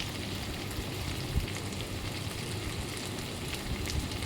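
Fish pieces shallow-frying in oil for a Telugu fish fry, a steady dense crackling sizzle at moderate level throughout, close and continuous with no talk.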